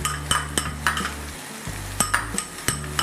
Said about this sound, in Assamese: অলপমান ভাজি ল'ম